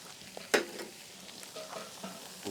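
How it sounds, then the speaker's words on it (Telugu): Ginger garlic paste with turmeric frying in oil in a pan, a faint low sizzle with a sharp stirring scrape near the start and a few soft clinks, no talk. "అల్లం వెల్లుల్లి పేస్ట్ నూనెలో చక్కగా వేగాక దీంట్లోనే మనం పసుపు యాడ్ చేద్దాం."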